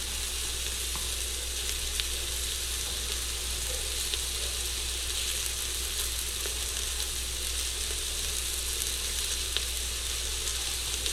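Onions frying in a pot for birria, with a steady, loud sizzling hiss and occasional faint stirring scrapes, close up with no voices.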